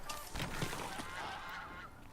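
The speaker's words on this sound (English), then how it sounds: "Oh, there's birds. Goose, come back!" A goose honks in the video game Horizon Zero Dawn, with loud harsh calls in a close cluster over game ambience and no talk.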